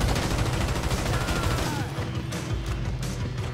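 Dense, continuous automatic gunfire from minigun-armed enemies in the video game GTA V, a rapid rattling barrage filling the whole stretch, loud and unbroken with a slight dip midway.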